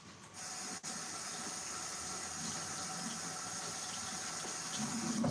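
Tap water runs steadily from a kitchen faucet as hands are washed after handling ground bison, a continuous close hiss of flow with a brief interruption near the start.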